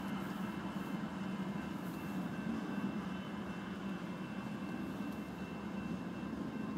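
Slow mixed freight train led by a GEVO and two Warbonnet locomotives: a continuous low rumble and rolling clatter of cars passing at a steady, moderate distance, with no talk.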